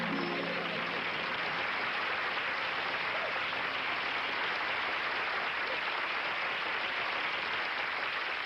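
Audience applause in a 1977 televised magic special, a continuous even wash of clapping heard at moderate distance, steady throughout without talk over it.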